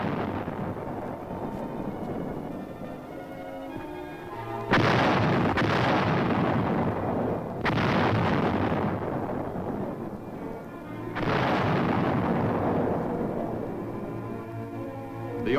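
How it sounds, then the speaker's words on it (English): 155 mm howitzers fire artillery in Seoul, sounding as several heavy booms that each roll into a long, loud rumbling tail. The overlapping blasts come one after another over a dense wash of noise. "155 howitzers fire a sharp warning at the advancing Chinese"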